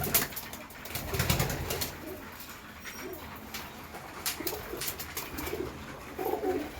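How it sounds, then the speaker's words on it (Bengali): Pigeons kept in a loft, including Giribaz and Kalshira breeds, cooing softly in low repeated phrases amid light rustling and shuffling, fairly faint and close. "দেখুন পায়রা সব"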